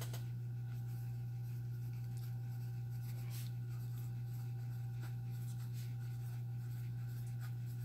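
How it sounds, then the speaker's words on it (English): Notes being written by hand make faint, sparse scratching strokes on paper, set against a constant low electrical hum with no speech. "let me write this down for you guys"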